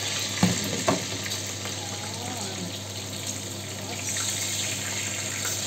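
Pork sizzling and frying in a pan, a steady crackling hiss with a couple of sharp pops near the start, sounding close and continuous, with faint kitchen clatter and no talking.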